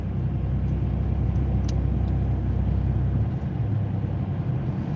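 A car cruising at about 50 miles an hour along a major Midwest thoroughfare, with a steady, loud low rumble of engine and road noise throughout and no talk.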